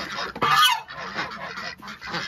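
A domestic goose honks several times in quick succession, loud and close, with harsh nasal calls broken by short pauses.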